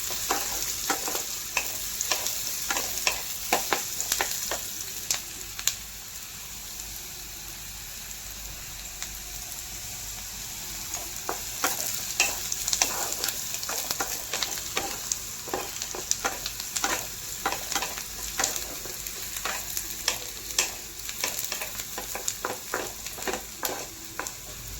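Onions frying in a pan until golden, a steady close sizzle with frequent scraping stirs of a utensil, no voices.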